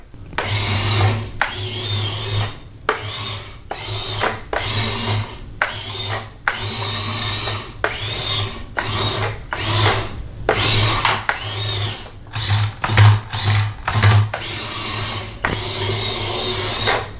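A 1 lb battlebot combat robot test driving, its small electric drive motors whining in repeated short bursts with brief pauses between runs, close and fairly loud with no voices.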